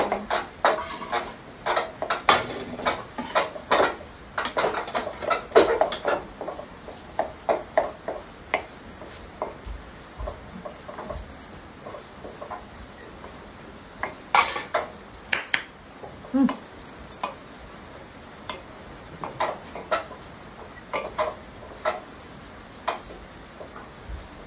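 A spoon stirs besan ladoo mixture in a metal pan with repeated irregular scrapes, clinks and knocks, some louder than others, over a quiet kitchen background without speech.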